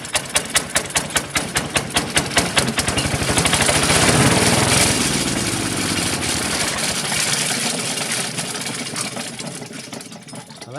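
A wood chipper's small engine catches and runs after a choked start, beginning with loud rapid putting firing pulses that settle into a steady close-up idle lasting several seconds, with no talking.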